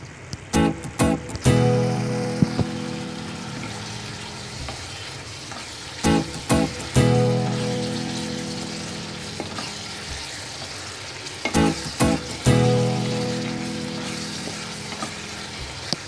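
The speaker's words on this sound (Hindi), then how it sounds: "इसको मैं भी इसको और ज़्यादा सॉटे करूंगी और इसको भी जब तक इसका कच्चापन मसाला जब तक भुन ना जाए तब तक मैं इसको फ्राई करूंगी" Masala frying and sautéing in a pan for a Bengali-style pomfret fish curry: a loud, steady sizzle carries throughout, broken by bursts of stirring and scraping clatter near the start, around the middle and toward the end, with no voices.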